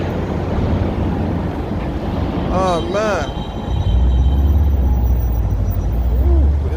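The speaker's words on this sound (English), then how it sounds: "it's a little windy today" Gusty outdoor wind buffets the microphone with a low, steady roar that grows heavier partway through, while someone briefly speaks over it.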